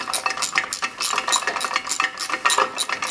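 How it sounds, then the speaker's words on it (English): A ratchet with an extension clicks rapidly and steadily while winding up the sump bolts on an air-cooled VW engine, with a dense, close, continuous run of metallic ticks. "use an extension and a ratchet, just keep winding the bolts up progressively"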